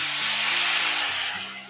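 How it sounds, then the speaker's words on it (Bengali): Chopped onion and tomato hit hot oil already seasoned with chili powder, letting out a loud, steady hiss that fades slightly toward the end, with a low hum beneath. "এবার কেটে রাখা পেঁয়াজ আর টমেটোটা একসাথে দিয়ে দেব।"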